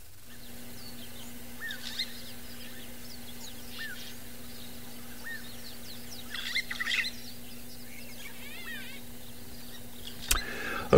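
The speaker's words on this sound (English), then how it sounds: "it's nice just to listen to the bird choruses for the morning" Morning bird chorus at a safari reserve at sunrise, with scattered chirps and short calls at a distance over a low, steady hum.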